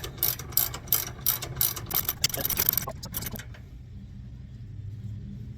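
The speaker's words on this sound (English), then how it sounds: "It went by hand a little, so let's use the wrench and see." A wrench ratchets a front shock bolt on an Ineos Grenadier during a KING shocks install, making quick, close clicking bursts in several rapid runs before stopping, followed by quiet low background rumble.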